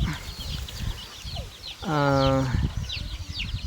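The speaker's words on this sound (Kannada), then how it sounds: "ಇವು ಬಂದುಬಿಟ್ಟು 15 ದಿವ್ಸದ ಮರಿಗಳು" Fifteen-day-old chicks peep in quick, high, repeated chirps throughout, with a short, louder voiced call near the middle, all fairly close.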